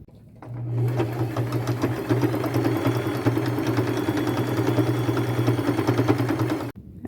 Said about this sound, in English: I'm just going to take it to my machine, stay close to the edge with a straight stitch.